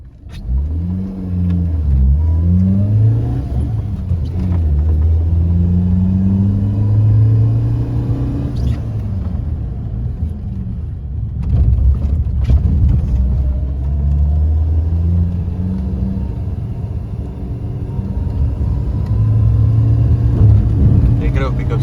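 A CNG car's engine revs repeatedly from idle, rising and falling in several loud, close swells, with a person talking intermittently between the revs.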